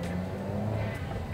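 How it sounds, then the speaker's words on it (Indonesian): A 2023 Toyota Avanza Veloz engine revs as the driver presses the throttle, a brief, steady mid-level drone with a rising tone and no voice over it. "Saya coba untuk gas ya, 1, 2, 3"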